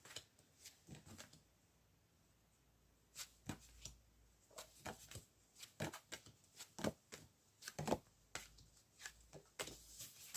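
Tarot cards being shuffled by hand, a run of soft, papery riffles and taps, close and fairly quiet, with no talking.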